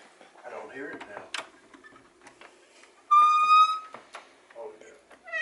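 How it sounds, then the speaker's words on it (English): A loud door in an old haunted hotel creaks open or shut with a sustained squealing whine lasting about a second, standing out over faint room noise and scattered knocks. "That door is so loud."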